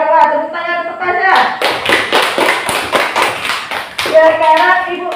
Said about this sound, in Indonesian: Coba tepuk tangan untuk Pasha.